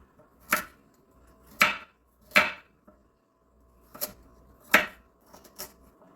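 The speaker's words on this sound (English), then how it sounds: "I'm going to cut these carrots" A knife chops through cleaned, peeled carrots on a board, six or seven separate crisp cuts spaced irregularly, close and fairly quiet with no talk.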